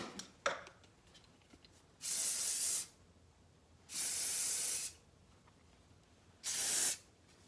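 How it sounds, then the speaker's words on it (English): Three separate bursts of hairspray hiss out onto hair, each lasting under a second, with quiet pauses and faint handling sounds between them. "And then spray with hairspray."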